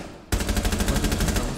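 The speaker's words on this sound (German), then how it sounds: "Das LMG von Maestro macht übel Bock." Maestro's light machine gun fires in Rainbow Six Siege, a rapid, loud, evenly spaced burst that starts abruptly and runs without pause to the end.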